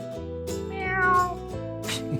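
A cat meows clearly, one drawn-out close meow rising and falling over a steady background hum with no talking.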